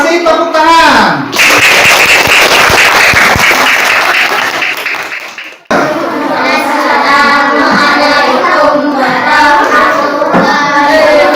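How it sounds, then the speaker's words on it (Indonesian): Loud, close applause from an audience at a coding and artificial intelligence training session, with many hands clapping in a dense burst, a brief break, then more clapping mixed with voices and cheering. "Kasih tepuk tangan."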